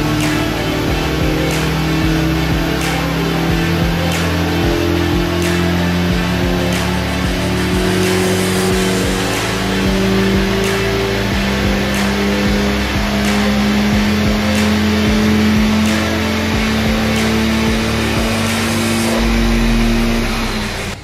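A turbocharged VW Golf MK2 engine revs hard and loud through a dyno pull, rising steadily in pitch for about twenty seconds with continuous engine roar and no talk.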